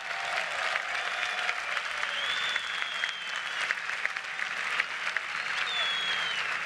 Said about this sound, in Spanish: Así que el aplauso es para ustedes.